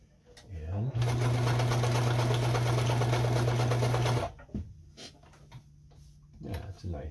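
A Kenmore 158.17740 sewing machine runs a zigzag stitch in one loud, steady burst of about three seconds with a rapid rhythmic hum, followed by quieter clicks and handling noise.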